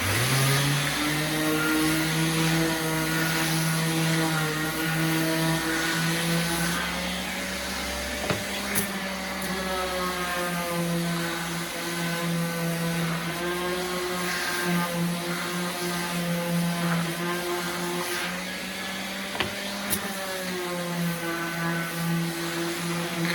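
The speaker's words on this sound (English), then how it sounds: "all you do is you turn on your sander" A power sander runs on wood, putting out a continuous loud motor whine with a steady pitch and small shifts in load. It sounds close-up and carries on alone with no talking.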